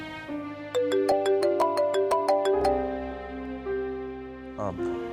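A mobile phone ringtone plays a bright electronic melody of quick repeated notes over sustained tones, loud and close, with no one speaking over it.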